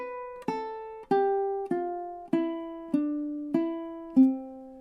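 Ukulele picked note by note without campanella, seven plucked notes in a steady descending pattern, each decaying quickly before the next; clear and close with no voices.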